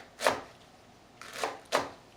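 A knife chops food on a board while stuffed cabbage is being cooked: three crisp, close strikes, one early and two about half a second apart near the end, with quiet between them.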